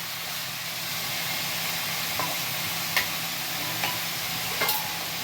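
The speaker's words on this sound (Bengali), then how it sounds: "চিকেনটা দিয়ে ভালো করে নাড়াচাড়া করতে হবে যাতে চিকেনটা থেকে একটু জল বেরোয় এবং চিকেনটা একটু ভাজা ভাজা হয়ে আসে।" Chicken for chicken makhani sizzles steadily in a hot pan, with a few sharp scrapes and clacks of a spatula as it is stirred.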